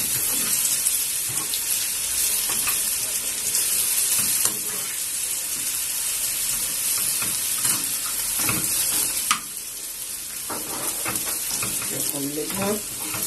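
Onion and garlic cloves sizzle steadily in a hot pan for an Egyptian bessara dish, a continuous crackling fry with occasional scraping stirs, close and moderately loud throughout.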